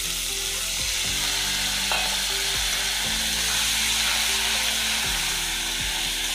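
Kashmiri chilli and cumin masala sizzles steadily in a pan for egg tadka as a little water goes in, with a loud continuous hiss and a few clinks of a utensil stirring.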